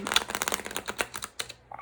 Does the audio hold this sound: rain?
no